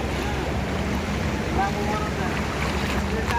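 Steady, dense rush of flooded stream water over a village bridge after heavy rain, a broad continuous roar filling the whole clip with faint voices somewhere in the background.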